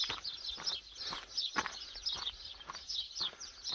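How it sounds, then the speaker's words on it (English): A dawn chorus of birds chirps and trills continuously, several calls overlapping in the distance, with faint scattered ambient noise beneath and no voices. "Birds are waking up."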